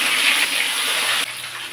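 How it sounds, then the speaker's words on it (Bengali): Rohu fish fries in hot mustard oil, making a bright, continuous sizzle close by that drops slightly in level partway through, with no talk. "তেল গরম হয়ে গেছে, মাছটা দিয়ে দেব।"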